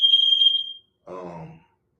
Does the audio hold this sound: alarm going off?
yes